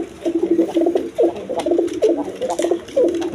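Snake-eyed, high-flying Giribaz pigeons coo close by in a steady run of repeated, throaty calls, with no talking over them.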